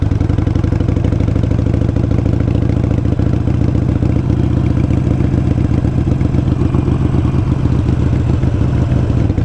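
A motorcycle engine runs close by with the throttle applied, making a loud, steady, low clattering drone with a fast, even firing pulse that holds for the whole stretch.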